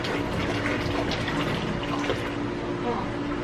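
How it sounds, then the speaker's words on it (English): Water pours steadily into a cooler of coffee grounds to wet them for a large cold brew batch, a continuous splashing rush heard close and alone. "I'm gonna pour 2 liters just to get the coffee grounds wet."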